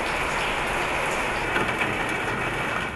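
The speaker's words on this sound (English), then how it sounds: "Pavilion of Rain is an old shack on a lake, found objects stuck together, sitting in a pool of water that collects and amplifies the rain that falls" Steady rain pours onto an old shack art installation built from found objects, set in a pool of water that collects the falling drops, making a dense, loud, continuous hiss with scattered drips and no voices.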